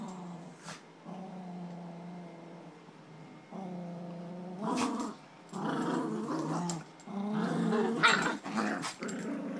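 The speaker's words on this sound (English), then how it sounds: "Bella, Bella, be nice, Bella. Well, they're playing." Dogs play together, trading low rumbling growls that swell into louder overlapping snarls and grumbles toward the end, close and moderately loud.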